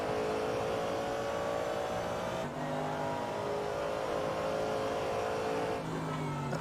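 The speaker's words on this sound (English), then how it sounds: "please enjoy some American V8 sounds" American V8 race car engine in a racing video game at Laguna Seca, a steady sustained drone with a clear harmonic tone that shifts pitch as the car moves through gears, heard continuously from a dashcam view.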